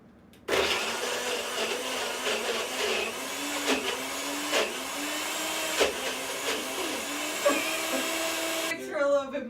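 A blender whirs loudly as it mixes a smoothie, a steady motor roar with wavering pitch that runs for about eight seconds and then stops abruptly, a brief clatter following.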